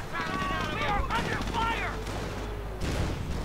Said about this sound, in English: Anti-tank gun firing at the Panther, but at a very much wrong angle